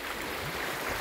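Río Mexteco near San Antonio Chiltepec, Puebla, rushing with a strong current, a steady broadband wash of water, fairly loud and continuous with no speech.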